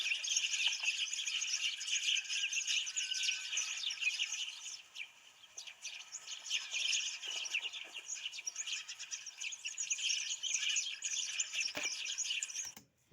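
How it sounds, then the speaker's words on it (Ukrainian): A recorded sparrow chirps in a rapid, continuous stream of high, bright tweets, steady and fairly close throughout with only a brief dip midway, and no voices. "Це пташечка, горобчик."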